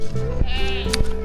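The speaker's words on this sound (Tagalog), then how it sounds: "Buhay na buhay ang kambing dito" A goat gives a single loud, close, wavering bleat, with a shorter bleating call right after it.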